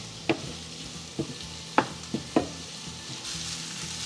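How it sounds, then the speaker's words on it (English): Tomatoes, ginger, garlic and green chili sauté in a pan for samosa filling, a low sizzle punctuated by five or six distinct clicks and scrapes of a spoon stirring, with the hiss rising slightly near the end. "We're going to saute this for a little while so the tomatoes turn soft"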